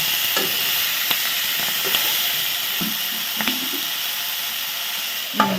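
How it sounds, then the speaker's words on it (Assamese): Jalkia is frying in a pan and being stirred, with a steady sizzle and scattered scrapes and knocks of a utensil against the pan. No one speaks. "এনেকৈ ভাজি থাকিব লাগিব আৰু অলপ সময় মানে বহুত সময়"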